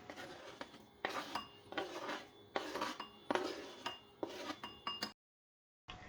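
Knife dicing medium Italian tomatoes on a cutting board, a close series of rhythmic chopping strokes in quick bursts, about seven clusters, stopping abruptly before a brief final cut.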